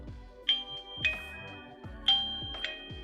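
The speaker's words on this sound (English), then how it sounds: "Let's see what happens when you ring the doorbell." A Wyze battery video doorbell chimes in bright, repeated electronic ding-dong tones, clear and close, with short decaying notes and gaps between them.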